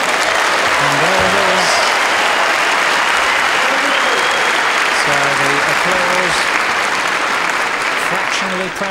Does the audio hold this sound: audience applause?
yes